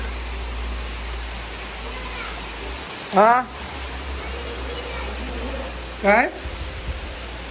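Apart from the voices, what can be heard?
heavy rain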